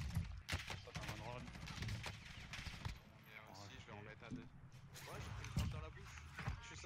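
Rapid bursts of automatic gunfire fill a Warzone firefight, steady and dense throughout with sharp individual shots cutting through, while a voice talks over the action.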